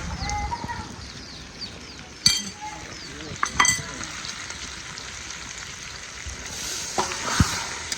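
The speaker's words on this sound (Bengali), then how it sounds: "আমার এখানে আলু টমেটো চিংড়ি একসাথে ভাজা হয়েছে আর এখন মশলা দিয়ে দিব" Potatoes, tomatoes and shrimp frying with coriander, chili and turmeric give a soft steady sizzle, broken by a few sharp clinks of a utensil against the pan.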